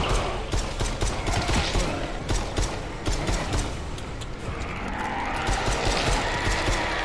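Gunshots fired at zombies in the Propagation VR game: a run of sharp, repeated cracks in quick succession over a dense, noisy game soundscape, loud and close, with no clear speech.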